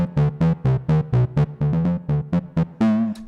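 Synth plucks with the pluck control turned fully up: a quick run of short, sharply decaying notes ending on one longer held tone, loud and close with no voices.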